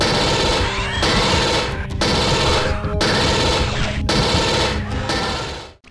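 Pulse rifle firing in Alien Trilogy on the Sega Saturn, loud sustained automatic bursts in several long rattling strings separated by short gaps, alone without speech.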